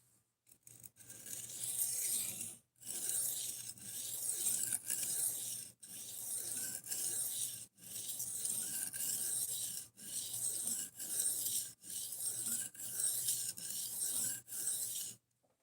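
A knife blade is drawn repeatedly across a sharpening stone in steady rasping strokes, about a dozen passes separated by brief pauses, close and fairly faint with no talking.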